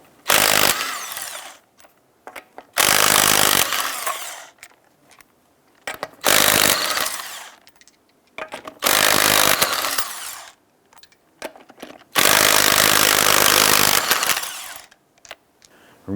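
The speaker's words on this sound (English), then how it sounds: "Using your 19 millimeter socket, loosen and remove the driver's side rear wheel lug nuts" An impact wrench with a 19 mm socket loosens the rear wheel lug nuts on a 1999-2004 Jeep Grand Cherokee, giving five loud, rattling, hammering bursts of a couple of seconds each, separated by short pauses.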